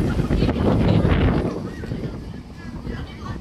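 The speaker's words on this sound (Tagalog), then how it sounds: "Medyo mahangin na siya." Gusty autumn wind in Hong Kong buffets the microphone with a low rumble, strongest early then easing, while a voice speaks faintly underneath.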